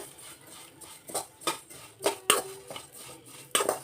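Vermicelli is roasted in ghee in a kadai, heard as scattered metallic clinks and scrapes of a utensil stirring against the pan. The sounds are irregular, close and moderately loud, with a quiet background between strokes.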